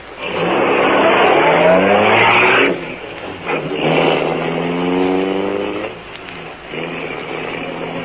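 A car engine in a 1939 radio drama sound effect revs loudly and pulls away, its pitch rising through gear changes and then easing off as it drives into the distance, with no voices.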